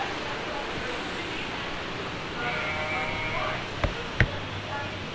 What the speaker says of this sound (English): we're going to go in and see some sheeps and some goats and some rabbits